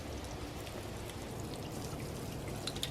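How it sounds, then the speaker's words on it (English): Water poured over chrysanthemum flowers, giving a steady, continuous splashing and pattering with no talking. "We should do some watering the mums."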